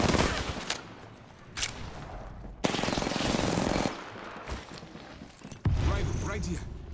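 Bursts of rapid automatic gunfire in a video game, several loud sustained volleys separated by short gaps, with clanking mechanical noises and talk mixed in.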